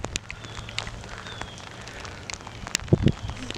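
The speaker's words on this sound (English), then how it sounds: "Got a light rain." Light rain falling during an ice storm, a faint, steady patter of scattered drops and crackles outdoors, with a couple of louder knocks near the end.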